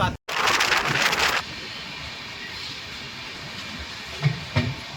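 The 22897 Kandari Express on the Howrah–Digha line runs past Tamluk, heard from on board as a steady rushing rumble and hiss, louder at first, then settling into an even drone with a couple of soft knocks.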